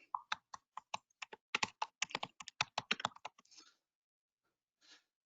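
Keys on a computer keyboard clatter in a quick run of about twenty close, crisp taps while a search is typed, then stop, leaving near silence broken by one last soft click.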